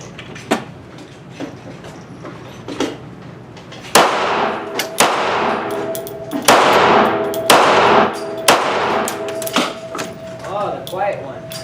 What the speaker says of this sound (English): getting ready to shoot 5 rounds of the Hornady Critical Defense